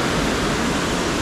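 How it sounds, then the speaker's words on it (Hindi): Waterfall at the Henrietta cascades, water pouring down in a loud, constant hiss-like roar with no other sounds. "नीचे पानी गिर रहा है, बहुत डेंजरस है भाई"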